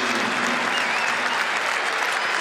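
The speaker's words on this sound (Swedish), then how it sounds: "Det är också en del applåder här av hemmapubliken." Home supporters applaud at a Swedish Cup football match between Hammarby and Sundsvall, a steady, dense wash of clapping from a large stadium crowd that holds for the whole stretch without pause.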